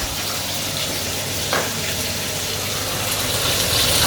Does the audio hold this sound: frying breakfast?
yes